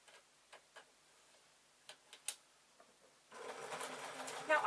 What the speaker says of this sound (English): Now I'm using the sewing machine for speed.